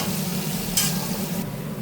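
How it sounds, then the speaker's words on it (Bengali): Soybean chunks frying in hot oil make a loud, close crackling sizzle, with a short burst of spatter as they are stirred around the pan. "ঝেড়ে রাখা সয়াবিনটা দিয়ে সয়াবিনটাকে এবারে ভাজবো এভাবে নাড়াচাড়া"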